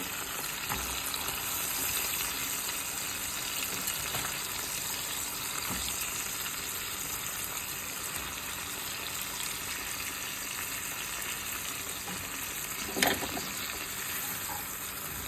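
Chopped bottle gourd goes into a pan of prawns frying in oil, giving a steady, fairly quiet sizzle throughout with a few soft clatters and one brief sharper knock near the end.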